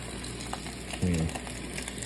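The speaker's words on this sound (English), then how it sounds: "I'm using the butter to kind of fry my shrimp" Shrimp fries in melted butter in a Japanese mess tin, giving a steady, close crackling sizzle that continues throughout with one brief low thump partway through.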